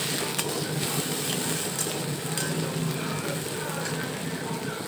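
Tiger prawns and shrimp legs sizzle steadily in hot oil in a pan, with repeated stirring and scraping under a constant frying hiss.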